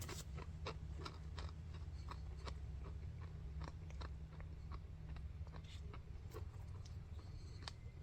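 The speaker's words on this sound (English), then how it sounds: "crunchy wasabi peas." Crunchy wasabi peas are chewed close to the mic, giving steady, rapid crunching bites that repeat throughout with no talking.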